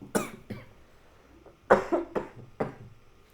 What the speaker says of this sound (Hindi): 2-3 शब्द मैं बोल रहा हूँ तो उसके बाद मुझे खांसी हो रही है